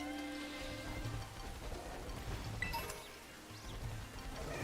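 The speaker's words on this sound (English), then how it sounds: "It has begun to rain." Steady, soft rain falling across an outdoor area in Pokémon Scarlet, a quiet continuous patter with no voices over it.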